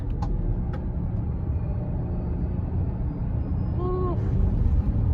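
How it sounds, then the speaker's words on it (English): Chrysler Pacifica Hybrid minivan accelerating hard in a straight line, steady loud low road and engine rumble heard from inside the cabin, with a brief rising whine near the end. "Alright, straight line, acceleration."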